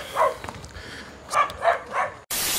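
A dog barks a few times nearby inside a parked car, the yaps coming in short separate bursts before a sudden loud broadband rush cuts in at the end.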